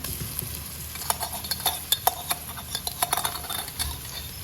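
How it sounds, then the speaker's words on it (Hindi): A spoon stirs browned onion with garlic and ginger paste in a pan for a chicken feet dish: soft sizzling under a run of quick scraping clicks against the pan, close and fairly quiet. "इसको अच्छी तरह मिक्स कर लें"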